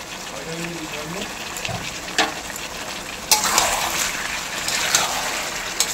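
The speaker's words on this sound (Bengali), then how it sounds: "তো দেখো 7-8 মিনিট হয়ে গেছে মাংসটা কষানো" Meat sizzles and is stirred in a pan while being slow-fried with homemade chilli powder, with a steady frying hiss and louder scraping bursts, and a voice speaking faintly underneath.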